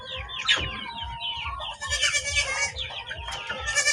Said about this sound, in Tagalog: Yung ating mga manok ay nandito pa rin.